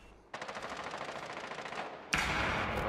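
Rapid automatic gunfire in a tactical shooter video game, one sustained burst of evenly spaced shots that stops briefly, then a louder, denser burst close by.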